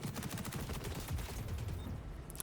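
Gunfire in the XDefiant shooter game, a dense run of quick shots at moderate volume, steady throughout with no talk.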